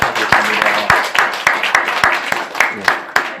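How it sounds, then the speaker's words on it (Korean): A church congregation at a Sunday worship service claps to welcome a visitor, loud close claps in a fairly regular rhythm from a small group, with sparse background voices. "우리 먼저 박수로 환영하고"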